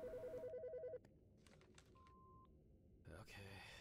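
A telephone rings in the horror game Autopsy Simulator, a short warbling electronic ring pulsing rapidly for about a second, followed by a brief tone and clicks, all quiet.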